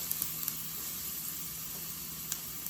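Onions and shallots sizzle steadily in a pan while paella is being started, a soft continuous frying hiss with a few faint clicks and pops, close and even throughout.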